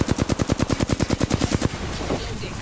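Rapid automatic gunfire in the Apex Legends video game, a loud, evenly spaced burst of about fifteen shots that stops abruptly, leaving a lingering rumble.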